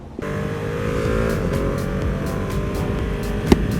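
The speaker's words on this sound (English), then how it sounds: "First ride on the brand new 2021 Ducati Panigale V2." A 2021 Ducati Panigale V2 motorcycle runs on its first ride, a loud steady engine drone with wind noise, close and continuous after a sudden start, with a sharp click near the end.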